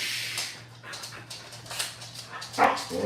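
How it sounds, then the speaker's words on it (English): Dogs are heard nearby, with scattered yips and whimpering barks in bursts over a steady low hum, and one louder yelp near the end. The dogs are excited and crowd around a person. "Oh, dogs are all over me."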